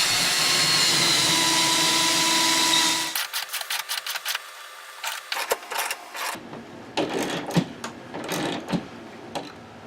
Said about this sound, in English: I'm screwing this cleat to the wall with 3-inch lag screws